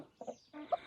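A rooster in a hen aviary gives two short, soft clucks close by, one just after the other, over a quiet background.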